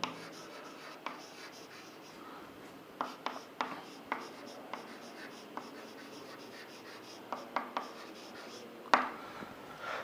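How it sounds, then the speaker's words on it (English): Writing on a board during a lecture: faint scratchy strokes broken by sharp taps, in irregular bursts of a few strokes, with a quiet room and no talking. "I will write the second one here."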